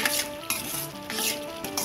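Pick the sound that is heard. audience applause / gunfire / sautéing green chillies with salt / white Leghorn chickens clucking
sautéing green chillies with salt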